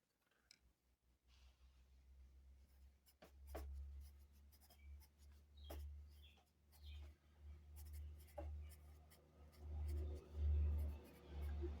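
A Staedtler Mark-2B pencil scratches across paper in short strokes and taps, quiet and close, with a low thumping handling noise underneath and no talk.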